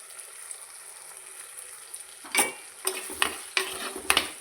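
Chicken cooking in a pan on the hob, starting as a quiet steady sizzle, then a spoon or spatula stirring in several short scraping bursts over it, close by and without talk.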